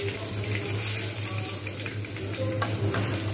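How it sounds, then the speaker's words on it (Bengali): Papad frying a few at a time in hot oil for a papad curry, a loud, close, continuous crackling sizzle with a low steady hum beneath and no talking. "এরকম করে অল্প অল্প করে দিয়ে ভেজে নেব"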